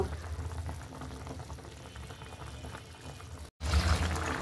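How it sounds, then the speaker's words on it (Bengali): Bhetki fish and eggplant curry bubbles at a steady simmer in a pot, a continuous close, moderately loud churning boil with no talk, briefly cut by a silent gap before resuming louder. "এই যে উতলাই গেছে মাছ বেগুন একসাথে দিয়ে ঝোল কমাবো"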